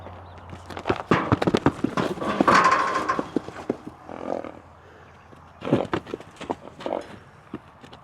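A horse shifts its feet near a fence, hooves thudding and scuffing irregularly on the ground in close bursts, with pauses between the clusters of steps.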